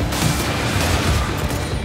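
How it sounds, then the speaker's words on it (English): Rapid gunfire-like bursts from Senna's heavy relic cannon in League of Legends, a dense, continuous barrage of booming shots lasting a couple of seconds with no talk over it. "Now she's back and armed with a hefty relic cannon to redeem the lost souls of the Black Mist."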